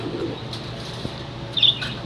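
A crested long-distance racing pigeon coos in a low, steady hum, with a faint flutter and a brief higher chirp near the end, close by and quiet.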